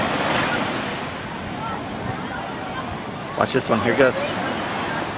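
Big ocean waves crashing on the shore at Nordeste, Bahia, a broad roaring surf under wind noise, with a sharper burst of breaking water near the end while a person talks briefly over it.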